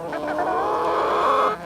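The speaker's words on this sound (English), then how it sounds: "The chickens say it's a-okay." Young backyard hens, not yet laying, in a chicken tractor give a loud, close run of clucking calls lasting under two seconds with no talk over them.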